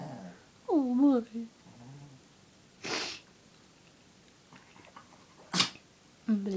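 A Pekingese dog gives a couple of sharp, sudden sneezes, separated by quieter snuffling and a few brief vocal sounds nearby.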